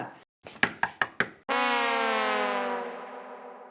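Four sharp knocks on a door in quick succession, loud and close, followed at once by a long sustained tonal wail that fades slowly.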